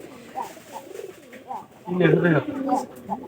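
A pair of pigeons coo in soft, repeated rolling calls close by, with a louder burst of cooing partway through.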